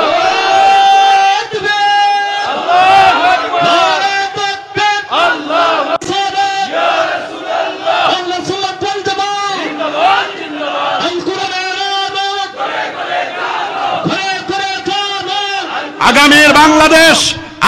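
A large crowd at an outdoor religious gathering roars the takbir chant in unison, repeated loud rhythmic shouts answering a call, massed voices dense and sustained throughout.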